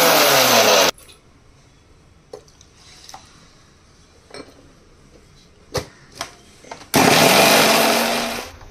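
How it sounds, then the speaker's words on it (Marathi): Mixer grinder crushing pearl millet and coconut, a loud dense whir at the start that cuts off, a quieter stretch with faint clinks, then a second loud burst of grinding toward the end. "हे वाटून घेत आहोत।"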